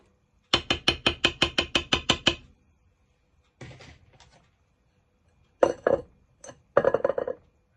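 A quick run of about a dozen bright clinks like a lid or utensil tapping a dish as marinating spiced plantain is covered, then a few scattered clatters of dishes being handled.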